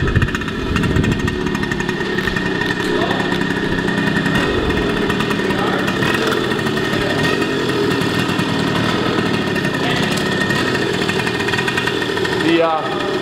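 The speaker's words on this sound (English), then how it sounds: "Run a little two-stroke." A 1975 Suzuki TS75 two-stroke motorcycle engine running, a buzzy, rattling idle with brief revs, close and loud throughout, with a voice speaking briefly over it.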